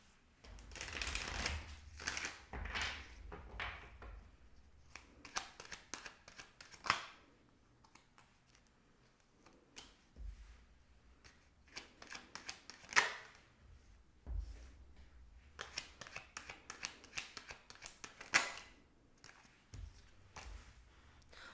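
Soft riffling and sliding of tarot cards being shuffled, in repeated bursts with brief pauses, close but quiet.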